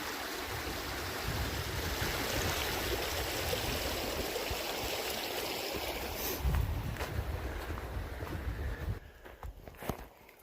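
Lake Creek rushes steadily beneath a footbridge on the Metolius-Windigo Trail along the upper Metolius River, a broad continuous wash of flowing water heard close, with a few footsteps and knocks toward the end.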